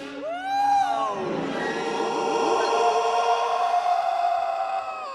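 A long, hollow Star Wars krayt dragon call in its newer version, a moan that bends downward, then holds a steady droning tone, loud and sustained for several seconds with no talking.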